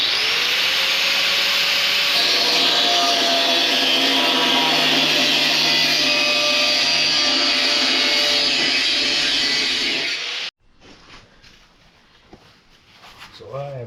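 Power tool cutting the rocker panel of a classic Mustang, a loud steady whining grind lasting about ten seconds before abruptly stopping, followed by faint clanks in the workshop.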